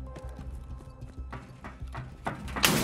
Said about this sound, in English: I have to hear the metal footsteps first before you can open the door.